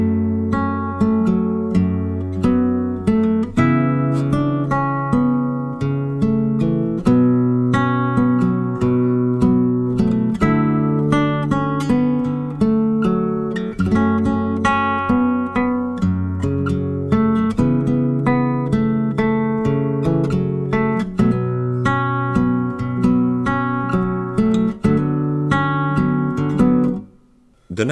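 Fingerstyle acoustic guitar plays a slower run through a passage of a song, steady plucked notes and bass strings ringing continuously for nearly half a minute, close and clear with no talking.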